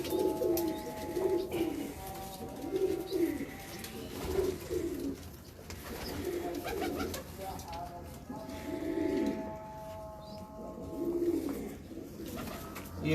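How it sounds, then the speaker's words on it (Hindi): A large pigeon on a rooftop in Faisalabad coos in repeated low, throaty rolling phrases at a steady rhythm, close and clear, while someone talks over it. "ये एक बड़ा कबूतर है जी।"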